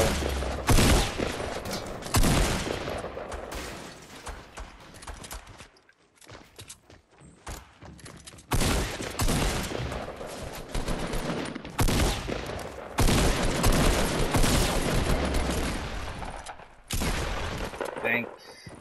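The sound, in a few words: gunfire in the video game Fortnite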